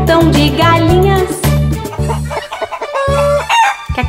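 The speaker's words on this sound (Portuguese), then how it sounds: "Cacaricam o dia inteiro no engraçado sítio do vovô João" Cartoon chickens cluck repeatedly on a grandpa's farm in a children's song, their short calls woven through a bouncy, steady musical accompaniment.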